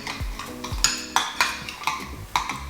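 A spoon whisks a peppery sauce in a bowl, sending quick repeated clinks and scrapes of metal against the dish in a brisk, uneven rhythm, close and clear.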